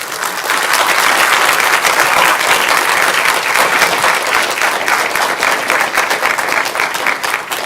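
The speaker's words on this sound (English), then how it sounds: "Let's give them a round of applause." A large audience at a talk on the Adirondack Park applauds a panel, producing loud, sustained clapping that fills the room for several seconds.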